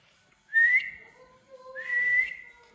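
Two loud, rising whistle calls to dogs ring out close by, each a sharp upward sweep held briefly, separated by a short pause over an otherwise quiet background.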